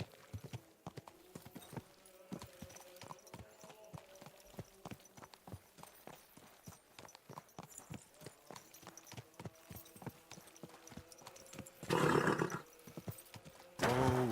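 Rapid, steady clip-clop of hooves at a trot in Kingdom Come: Deliverance II, close and clear, with a horse snorting and whinnying loudly near the end.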